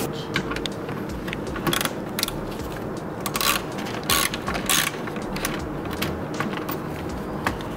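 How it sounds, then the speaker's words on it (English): Rapid ratcheting clicks come from a socket wrench as it loosens a fastener on the rear bumper cover of a 2017–2019 Lexus RX350L, running in close bursts with brief pauses over faint background noise. "And then we just need our socket wrench for that last one."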